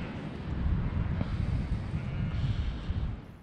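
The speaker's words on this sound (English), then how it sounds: "But it's so windy up here." Steady wind buffeting the microphone on an exposed Cumbrian hillside near Smardale Gill, a low continuous rumble that swells and eases slightly, with no voices.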